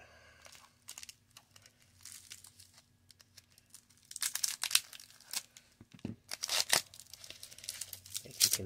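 Packing tape torn and peeled off a cardboard mail package, with bursts of crinkling and ripping that grow louder and denser in the second half, close up, with brief quiet speech between pulls.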